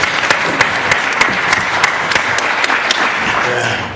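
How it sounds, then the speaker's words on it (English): Sustained audience applause at a panel discussion, dense steady clapping from a crowd filling the room with no pauses, loud and continuous throughout. "Give him a round of applause."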